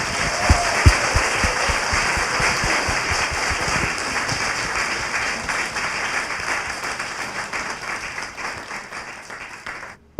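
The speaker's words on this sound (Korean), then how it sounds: "박수 한번 주세요" A studio audience at a Korean live talk show gives loud, sustained applause that fills the room, starting with a few sharper claps and keeping a steady, even level without voices.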